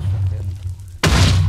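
A Minecraft explosion bursts suddenly after a low, steady hum, a loud close boom that rumbles on to the end.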